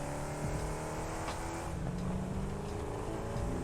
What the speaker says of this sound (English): The truck is more bouncy.